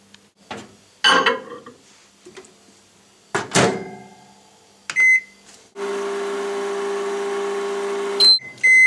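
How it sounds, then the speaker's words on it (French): Microwave oven running steadily for a few seconds to warm milk for dissolving brioche yeast, its loud even hum preceded by door and handling clatter and ending with a beep and the door opening. "vous le mettez 30 secondes au micro-ondes pour qu'il soit légèrement chaud"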